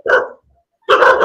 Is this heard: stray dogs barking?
yes